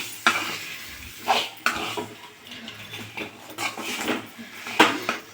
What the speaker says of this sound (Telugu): అది కారం కారం కలుపుతున్నాను